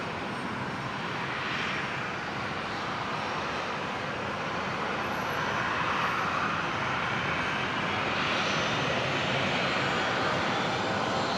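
A US Air Force KC-135 jet tanker's engines roaring steadily at Brisbane International Airport, a broad, continuous distant rumble and whine holding level throughout with no voices.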